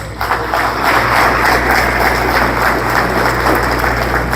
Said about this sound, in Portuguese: Dê um aplauso ao Senhor por isso.